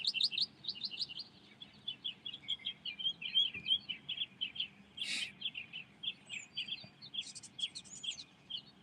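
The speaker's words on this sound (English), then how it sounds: "and the birds are going crazy" Dense, rapid bird chirps and tweets at sunrise, many small birds calling over one another almost without pause, fairly close and lively, with a low murmur of outdoor background underneath and no talking.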